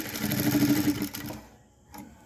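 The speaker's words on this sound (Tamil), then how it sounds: "இதுக்கு மேலேயே இன்னொரு தையல் போட்டுக்கோங்க" A sewing machine hums briskly up close, running a second line of stitching on cross pants, then stops, followed by a soft click.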